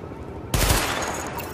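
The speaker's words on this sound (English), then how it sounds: "Open fire at the highlighted targets." Automatic weapon gunfire at highlighted targets during a weapon test in The Division video game: a sudden loud close burst of rapid shots after a brief quiet moment.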